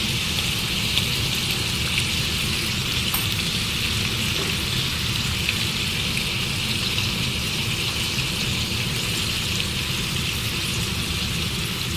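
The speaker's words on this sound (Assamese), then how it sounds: "এতিয়া আমি ইয়াত নহৰু আদাখিনি দি দিম প্ৰথমে।" Garlic and ginger hit hot oil in a pan for a pork and lai xaak dish, setting off a steady, loud, close sizzle that holds evenly throughout with no pauses.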